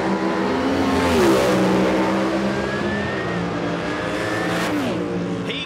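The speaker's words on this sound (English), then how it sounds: "very tidy run for Phillips" A top doorslammer drag racing car makes a run at a Queensland strip, its loud engine roaring with rising, shifting pitch as it accelerates hard and fades slightly toward the end.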